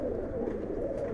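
Giribaz pigeons of a Pallah line at a large loft, cooing in a dense, steady murmur that stays close and continuous with no talking.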